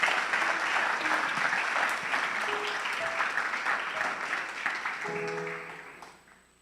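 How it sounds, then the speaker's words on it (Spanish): Congregation applauding during a Christmas church service, a dense, steady clapping from a large crowd that holds for several seconds, with faint tones sounding near the end before it fades. "le podemos dar un aplauso a nuestro buen Dios"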